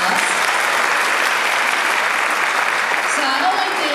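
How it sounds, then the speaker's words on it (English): A community audience at a Chinese New Year celebration applauds after a calligraphy performance, producing a dense, continuous wash of clapping that stays loud and even throughout. "Let's give them another round of applause."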